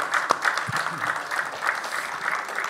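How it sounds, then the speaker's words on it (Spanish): Applause from a panel audience at a museum talk, a moderate crowd of hands clapping in a fairly even, slightly rhythmic patter, somewhat distant and steady for a few seconds. "un aplauso también"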